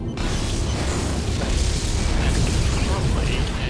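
A starship explodes in the Star Trek Legacy video game, a dense, sustained roaring rumble that holds loud and close for several seconds with no pause.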